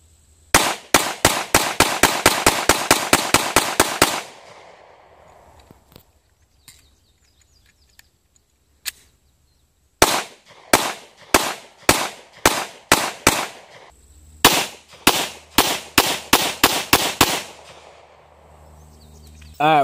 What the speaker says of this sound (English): We're gonna step back, take some shots at it.